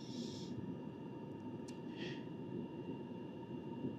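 Houswin diesel heater running at half throttle, a steady low broadband roar with a faint tonal whine that stays constant throughout. Brief soft hiss bursts rise above it now and then.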